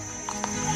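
A riding instructor's horse being ridden on the Langkawi islands, with a few soft hoof clops over a steady background hum, a voice faintly present.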